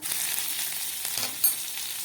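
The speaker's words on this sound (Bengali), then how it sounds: "আমি একটুখানি হিং ফোড়ন দিচ্ছি।" Asafoetida and grated ginger sizzle sharply in hot oil during a tempering for sago dosa, a steady bright crackle with one brief louder pop partway through.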